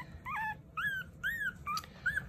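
Havanese puppies, chocolate and white females lying in a puppy pile, let out a run of high, thin whimpers and yips in short bursts, close and clear over a soft background rumble.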